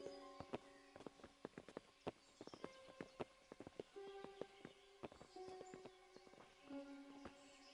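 Horses walking in the medieval world of Kingdom Come: Deliverance, their hooves clip-clopping in an uneven string of sharp, close knocks over a busy game soundscape, with brief tonal music or voice accents and no speech.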